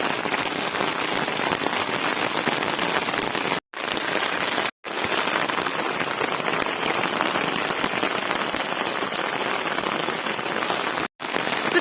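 Heavy rain pours over farm fields, a dense, steady hiss of drops hitting the ground that fills nearly the whole stretch, broken only by a few abrupt momentary gaps.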